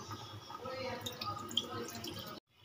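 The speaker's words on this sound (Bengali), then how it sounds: "এই যে অল্প পরিমাণে জলটা দিয়ে দিলাম।" A little water is poured into a pan of hilsa fish curry made with yogurt and mustard, giving a short close burst of splashing and bubbling liquid that cuts off abruptly near the end.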